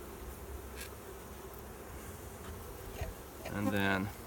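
Honeybee colony buzzing during a hive inspection of an overwintered six-frame colony: a faint, steady hum of many bees close by, with a louder bee buzzing past near the end.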